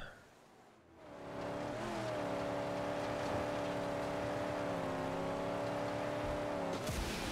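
Car engine in the Mad Max video game revving up and holding a steady, loud drone for several seconds, with a clear harmonic whine and a brief dip in pitch midway.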